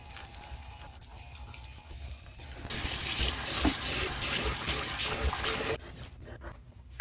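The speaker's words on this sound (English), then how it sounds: "All right, so I'm just gonna rinse my face now." Running water from a bathroom tap while a face is rinsed at the sink, a steady close splashing rush that swells for about three seconds in the middle and then drops back to a softer trickle.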